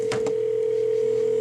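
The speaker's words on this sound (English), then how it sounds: "all of the phones ring together" Linked smartphones ring together through an Android app, giving a steady sustained electronic tone with a couple of brief clicks at the start.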